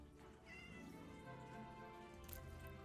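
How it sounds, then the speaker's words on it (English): A cat meows in Minecraft 1.18 survival mode, with a short tonal call rising over steady game ambience and a faint patter resembling rain. "I heard him meow, and there he is."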